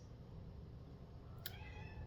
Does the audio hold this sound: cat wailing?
yes